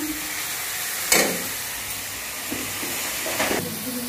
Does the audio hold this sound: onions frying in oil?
yes